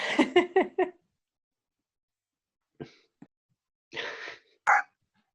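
A dog barks four times in quick succession during an online lecture, fairly close, followed by quiet and a few faint noises.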